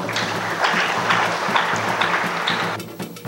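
A crowd at a Gold Fields 25th anniversary durbar gives a round of applause, a dense rolling patter of clapping that cuts off quickly near the end.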